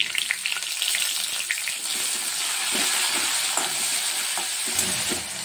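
Chopped tomato sizzles in hot oil with grated ginger and green chilli for paneer bharta, a steady loud crackle broken by frequent scrapes and knocks of a stirring spoon.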